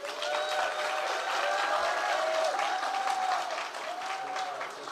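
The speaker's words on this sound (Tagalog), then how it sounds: "malakas ang palakpak" A crowd applauds steadily, dense clapping filling the room for several seconds at an even, fairly loud level, with voices faintly underneath.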